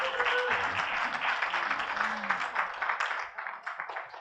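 A church congregation applauds, a dense wash of many hands clapping that holds steady before thinning into scattered claps, with a voice briefly heard near the start.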